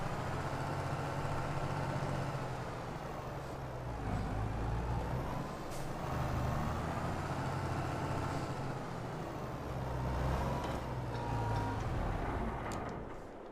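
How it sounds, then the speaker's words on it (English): Small tractor in Farming Simulator 22 drives along with its engine droning steadily, and sharp hissing air-brake releases burst out at intervals over the running motor. "But it's fine because we've got a small tractor we can use."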